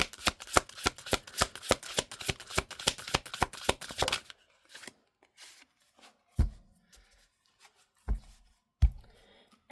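A deck of tarot cards is riffled and shuffled in a quick, even run of crisp flicks for about four seconds. After that come a few isolated soft card taps and knocks in near silence.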